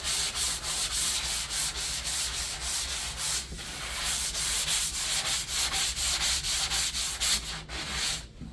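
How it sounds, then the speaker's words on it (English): Sanding a dried drywall patch of joint compound, working the feathered edges and then the middle; a loud, close, steady scratchy rubbing in quick repeated strokes with no talk. "I concentrate most on the feathers, and then I start sanding in the middle"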